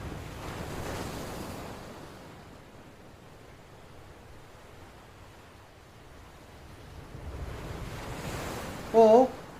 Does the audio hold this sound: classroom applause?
no